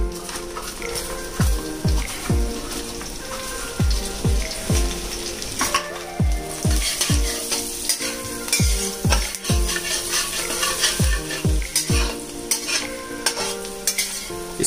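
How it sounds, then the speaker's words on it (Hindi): Garlic and chili sizzle in butter in a hot pan while a utensil repeatedly scrapes and stirs, giving rhythmic clanks over steady frying; no talking. "इसको लाइट ब्राउन होने तक सॉटे करेंगे।"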